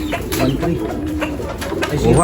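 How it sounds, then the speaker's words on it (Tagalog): A racing pigeon coos close by in repeated soft, throaty bursts, with background chatter and noise around it. "Babangis talaga ng kalapati na ito ni Sir Ralph."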